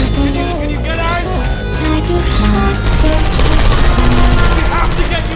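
Rapid bursts of gunfire in the video game Portal 2 crackle over a busy mix of music and effects, with a voice speaking now and then.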